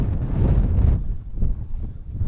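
Cold wind buffets the microphone at a Lake District campsite below Skiddaw, a loud low rumble that gusts hard at first and then eases into softer, uneven gusts.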